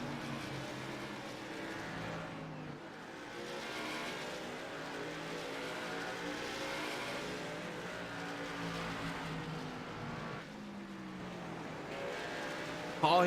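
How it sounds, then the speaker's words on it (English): Race cars roar steadily around a racing track as the leaders come by, a continuous engine drone with shifting pitch, while a commentator talks over the noise throughout. "Getting that car back up to speed as the leaders come around."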